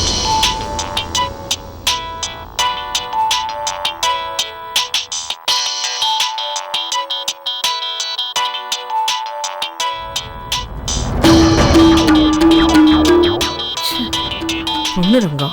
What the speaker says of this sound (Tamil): இப்ப எதுக்கு இவன் ஃபோன் பண்ணி தொலைக்கிறான்?